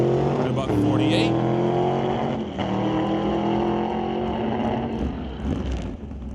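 The Rags to Riches Top Shop Camaro makes a single drag-strip run at Mission Raceway Park, its loud engine holding a strong drone that shifts pitch as it pulls away, with a commentator talking over it.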